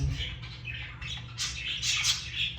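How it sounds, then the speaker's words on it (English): A pet bird squawks in a home among houseplants, a run of harsh, scratchy calls that grow louder toward the end over a low background hum. "Let me just pick up the bird."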